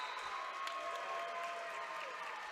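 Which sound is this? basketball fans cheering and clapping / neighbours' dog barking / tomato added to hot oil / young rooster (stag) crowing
basketball fans cheering and clapping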